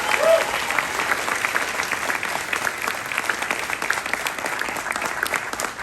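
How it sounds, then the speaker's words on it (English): Audience applause at a cinematography talk, a steady, dense wash of clapping from a seated crowd that holds evenly throughout. "give a round of applause for Ed"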